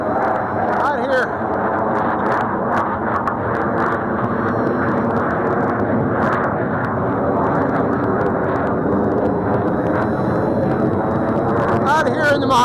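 A propeller aircraft drones overhead above the Mojave Desert, a continuous engine hum that stays steady and moderately loud, with faint breeze and handling noise but no voices.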